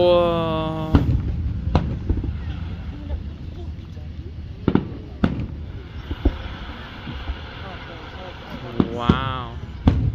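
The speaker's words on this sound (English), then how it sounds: "Yeah, the sparkle ones make a satisfying noise after it booms." Fireworks go off outdoors in a string of sharp booms spaced through the clip, with crackling sparkle after some bursts and fizzing whistles toward the end. People talk and react throughout.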